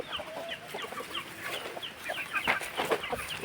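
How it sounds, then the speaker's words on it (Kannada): Free-ranging chickens on a poultry farm, fenced inside an areca nut plantation, cluck in a busy scattered chorus, with short bright calls overlapping close by and no voices. "ಕೋಳಿ ಬಿಟ್ಟಿದ್ದೀವಿ"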